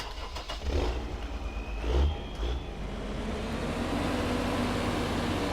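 Vehicle engine in Farming Simulator 19 on PS4: a steady, loud mechanical drone that swells in a brief rev near the start, then settles into a constant, even hum.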